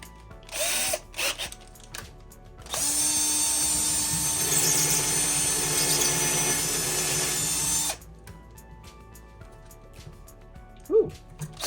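A power drill with a larger bit whines steadily for about five seconds while working on a PowerBook 180c laptop during a restoration, preceded and followed by quiet handling clicks and small taps nearby.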